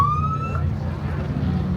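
Police car siren at a cars and coffee meet by Ocean Beach, a single rising wail that fades quickly over a low crowd murmur with voices nearby.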